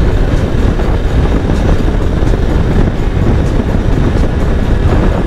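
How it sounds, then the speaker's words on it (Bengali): Loud, continuous rumble and rattle of a metro train running along an elevated track overhead near Baranagar station, heard close by with a dense low roar and no speech. "ওই ওপর দিয়ে ওইদিকে যাচ্ছে মেট্রো"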